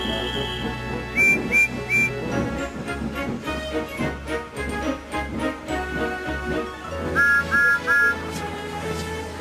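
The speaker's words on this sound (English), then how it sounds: "Then Gordon whistled as he approached the station." A steam engine's whistle sounds in short triple toots, twice, over busy music in a children's train story, bright and fairly loud against the score.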